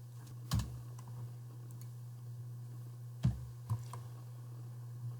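A few sparse keyboard clicks on a computer keyboard while a forum reply is typed, isolated taps over a steady low hum in a quiet room.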